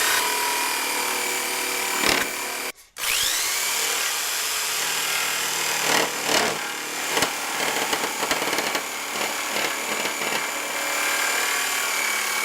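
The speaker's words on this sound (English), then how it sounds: "we have the jigsaw ready" Jigsaw cutting a wooden sign, carving a feather shape: a steady loud buzzing saw with a brief stop early on, then continued cutting with small scrapes and knocks.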